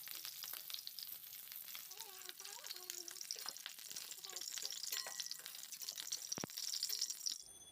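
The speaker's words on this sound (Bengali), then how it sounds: "ফুলকপিটাকে এইরকম একটু ভেজে রান্না করলে খেতে বেশি ভালো লাগে।" Cauliflower pieces fry in a kadai of hot oil for a Bengali niramish fulkopi dish, giving a steady, close sizzle with light stirring, and a faint voice briefly murmurs underneath.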